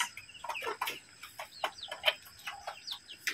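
Five free-range native chickens kept on a small home farm cluck and chirp softly while pecking at broken rice, short irregular calls overlapping one another at close range with no talking.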